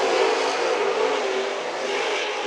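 Race car engine roaring steadily past on a speedway track during a production car race, a continuous loud, broad mechanical drone with no speech.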